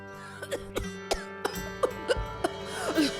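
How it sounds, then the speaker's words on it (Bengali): A cartoon character with a cold coughs repeatedly, about eight sharp, close coughs at a fairly steady rhythm over soft background music, with no talking between them. "আহারে, কাশিটা বড্ড বেড়েছে।"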